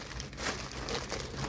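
Plastic packaging bags crinkling while a GoPro Hero 9 Black is unboxed, soft close rustles and crackles in irregular bursts, fairly quiet with no talk.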